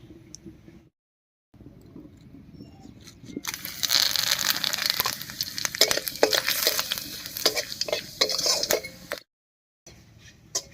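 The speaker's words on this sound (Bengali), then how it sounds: "তেল গরম হয়ে গেছে এবারে ফোড়ন দেব আর ফোড়ন দেব একটা তেজপাতা একটা শুকনো লঙ্কা গোটা গরম মশলা আর হাফ চামচ গোটা জিরা দিয়ে" Whole spices, a bay leaf and a dried red chilli hit hot oil for a Bengali tempering, giving a loud crackling sizzle with sharp pops that rises after a quiet start and cuts off near the end.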